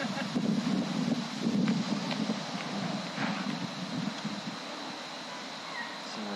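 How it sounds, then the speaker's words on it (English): Wind blowing outdoors at a garden celebration, a steady rushing buffet across the microphone with low rumbling gusts, fairly loud early on and easing slightly later. "Very windy."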